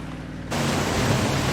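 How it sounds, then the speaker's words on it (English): A police boat cruising on water in the Sleeping Dogs video game gives a steady, broad rushing roar of engine and wash that suddenly swells louder partway through, then holds constant. "Police boat."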